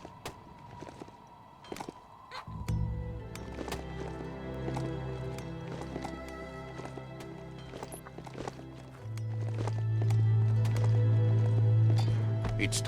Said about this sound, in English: I have a horsey.